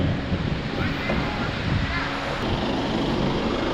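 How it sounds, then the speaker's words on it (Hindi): The Alaknanda river rushes below a footbridge on the way to Kedarnath in October, a steady broadband roar of water mixed with wind buffeting the microphone, with no break. "यहाँ पे देखो इतनी प्यारी नदी, अलकनंदा है मेरे हिसाब से ये नदी"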